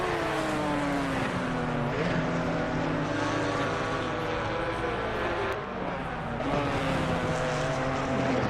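A McLaren 570S GT4 race car in Assetto Corsa Competizione at Misano howls through rising and falling gear sweeps, a sustained loud engine note with a brief dip midway as it shifts.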